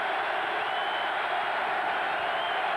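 A large stadium crowd at the Bills–Broncos 1991-season AFC Championship game in Buffalo gives off a steady, dense roar that holds evenly loud for the whole stretch, with no individual voices standing out.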